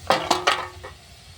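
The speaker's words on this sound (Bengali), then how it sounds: "এবার ঢাকাটা উঠিয়ে দেখব" Metal cooking pot lid lifted in a home kitchen, three quick clinks of metal on metal followed by a fainter fourth touch, close and fairly quiet.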